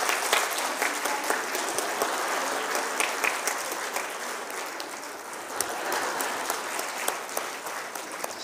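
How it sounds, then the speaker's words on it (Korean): Sustained applause fills a church during a ceremony, a dense, steady patter of many hands clapping in a large room throughout. "큰 박수로 축하해 주시기 바랍니다."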